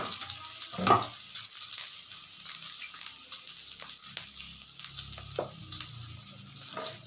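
Potatoes and flat beans stir-fry in a pan with a steady sizzle, while a spatula scrapes and clatters in a few sharp strokes near the start and later on; no voices.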